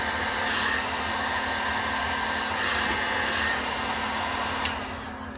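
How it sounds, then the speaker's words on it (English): Hot air gun reheating heat shrink tubing during an electronics repair, a loud, steady blowing roar that runs without a break through the whole stretch with no speech. "Let's grab the hot air gun here real quick. Reheat up this heat shrink."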